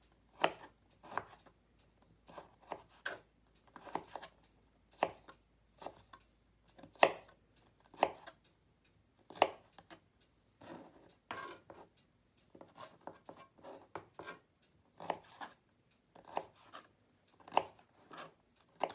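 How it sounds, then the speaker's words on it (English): A knife chops carrot into small pieces on a cutting board, giving a steady series of crisp, close taps and slicing strokes, irregular in rhythm, with only brief quiet gaps between them. "I like to stand it up and make thin slices and then lay it down and continue to slice it into small pieces"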